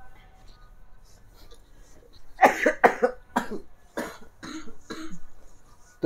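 A person coughs in a series of sharp bursts, several close together with short gaps between, near and fairly loud against a quiet background.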